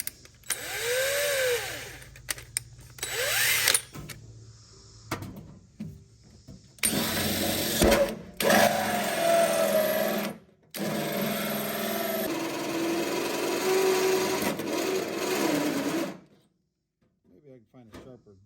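A power drill with a dull bit grinds into a metal fuel cell for a V8 Pinto, loud whining bursts that start and stop over about sixteen seconds, ending in near quiet.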